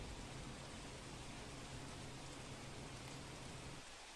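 Steady, dense monsoon rain hisses and patters continuously on surfaces at flooded Gomti Ghat in Dwarka, a constant wash of noise with no voices, fading slightly at the very end.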